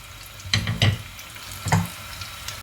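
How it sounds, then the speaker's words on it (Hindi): Buff vada (farali pattice) deep-frying in hot oil gives a steady bubbling sizzle, with a few sharper crackling bursts and splashes standing out above it. "उसको अच्छे से फ्राई होने देना है"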